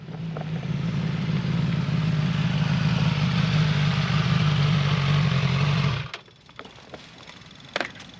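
A Suzuki GSX-S 1000 motorcycle with a Yoshimura exhaust runs on a dyno, its engine giving a loud, steady drone up close before cutting off abruptly, leaving quiet with a few small knocks.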